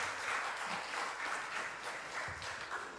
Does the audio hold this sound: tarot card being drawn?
no